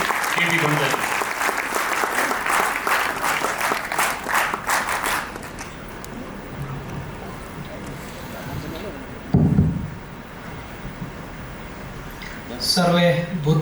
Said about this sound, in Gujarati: આપ સૌની ખૂબ જોરદાર તાળીઓ વચ્ચે નાયબ મુખ્યમંત્રી કેવી કણજારિયા